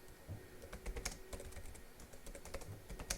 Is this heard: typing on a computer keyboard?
yes